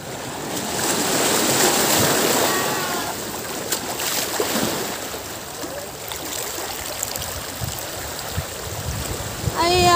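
Fish being washed in seawater at a beach: water sloshes and splashes steadily against a background of surf, with intermittent stirring and trickling sounds close by.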